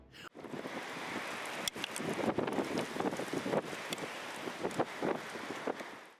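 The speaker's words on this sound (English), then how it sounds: "A gust of wind was seen twisting with a heavy thrust, forcing tall trees to move with its rhythm." Strong wind roars steadily outdoors in heavy rain, a dense, continuous rush with gusting swells and buffeting bursts against the microphone, close and loud throughout.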